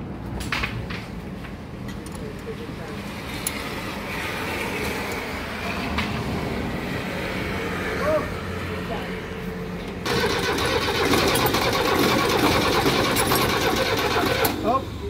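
An Isuzu diesel engine with a heavy diesel knock is cranked and started up close, its steady mechanical clatter running throughout and growing louder and busier near the end.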